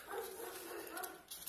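Dog barking and whimpering indoors during a paper scrapbooking craft session, short yelps and whines at moderate distance, with a brief louder burst near the end.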